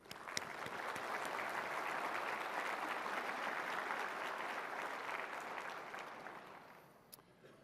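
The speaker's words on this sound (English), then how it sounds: "Everyone, please, a loud roar of applause for our sponsors and our exhibitors." A large audience at a professional conference applauds sponsors and exhibitors, a dense, steady roar of clapping that holds for about seven seconds before thinning out near the end.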